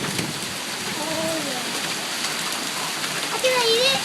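Hail pelts down in a summer storm in Mamaroneck, New York, making a dense, steady patter of ice pellets hitting surfaces close by, with faint voices heard now and then through the noise.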